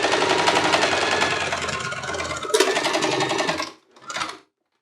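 Sewing machine stitching bias binding onto a fabric mixer cover, a close, loud rapid mechanical whirr that runs continuously, pauses briefly, then resumes in a short final burst.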